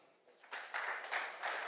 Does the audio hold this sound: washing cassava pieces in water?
no